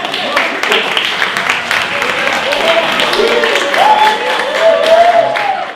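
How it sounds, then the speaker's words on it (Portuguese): Audience applause at a design debate, steady clapping across the whole stretch with a few voices rising over it. "Palmas para eles."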